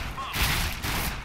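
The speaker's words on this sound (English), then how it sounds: "Sniper battle's going on right now." Two sharp cracks of sniper rifle fire sound in Counter-Strike: Global Offensive on the Mirage map, each with a short noisy tail, fairly close and loud.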